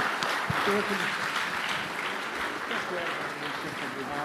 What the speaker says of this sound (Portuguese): Vocês querem saudar com a salva de palmas?